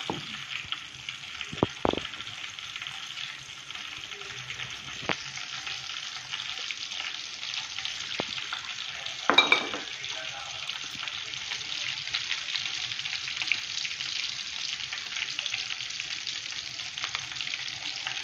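Water splashes and trickles while a stone mortar and pestle are rinsed, a continuous hissing wash with a few sharp knocks and clinks of stone partway through, close and moderately loud with no speech.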